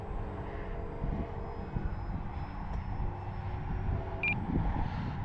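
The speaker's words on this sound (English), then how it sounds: "she's just a simple 4-channel plane, but she's just a solid little plane" A simple four-channel Arrows Trekker RC model airplane flies over a windy field, its small motor giving a steady, distant droning buzz that stays faint and even throughout.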